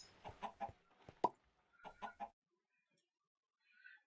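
Several short video game chicken clucks come in quick bursts, fairly quiet and close, followed by a pause and a faint higher chirp near the end.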